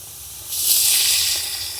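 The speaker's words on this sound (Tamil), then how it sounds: "இப்போ எண்ணெய் விடுவோம். அடுத்ததாக 1/4 லிட்டர் எண்ணெய். நல்ல சவுண்டு வருது." Quarter litre of cooking oil poured into a hot pot for biryani, bursting into a loud, steady hiss and sizzle about halfway through, holding bright and close before easing slightly at the end.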